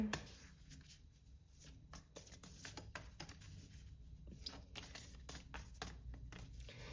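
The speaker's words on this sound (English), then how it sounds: "shuffle these here." Soft, close rustling and riffling of playing cards being shuffled in quick bursts, fairly quiet with brief pauses.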